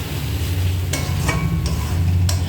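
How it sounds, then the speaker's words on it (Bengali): Thick spice paste frying in oil in a pan as it is stirred often so it won't stick: a steady dense sizzle with a few sharp spatula scrapes against the pan, close and fairly loud, with no talk. "মশলাটা একটু ঘন ঘন নাড়া দিতে হবে, নাহলে নিচে লেগে যাবে।"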